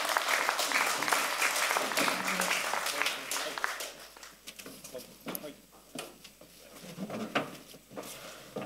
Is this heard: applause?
yes